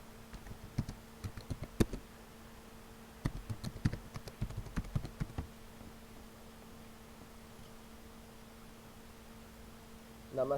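Typing a name on a computer keyboard with input lag: scattered quick clusters of soft key clicks in short bursts over a low steady hum, a few louder taps, then quiet before a final flurry of keystrokes.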